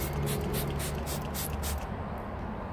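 Repeated short hissy sprays from a trigger bottle of degreaser, about eight quick bursts in a row, close by, then quiet hiss fading out.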